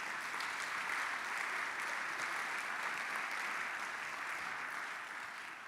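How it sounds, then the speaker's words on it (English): A large audience at an alumni hall of fame ceremony applauds the trustees, a dense, steady wash of clapping that stays loud throughout and eases off slightly at the end, with no speech over it. "could we all give the trustees a round of applause"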